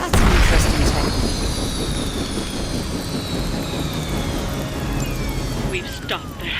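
A helicopter in the video game Marvel's Midnight Suns roars loudly with a sustained engine drone and descending whine, a boom near the start and a sharp burst near the end.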